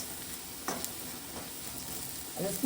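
Onion and curry leaves frying in oil for a stingray curry, a faint, steady sizzle with a few soft stirring clicks and scrapes, heard close but quiet.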